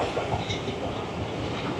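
The Rawal Express passenger train runs on rails as it passes slowly through Ahmedabad railway station, heard from inside with a steady rumble and faint rhythmic wheel clatter, no talk.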